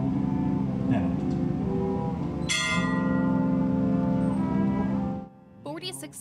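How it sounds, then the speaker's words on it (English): A single church bell strike rings out in Point Pleasant at a bridge collapse anniversary, humming on, its tone lingering under steady background voices before the sound cuts away. "the sound of a bell rang through Point Pleasant on Friday"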